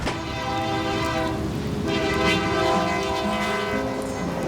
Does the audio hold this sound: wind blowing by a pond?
no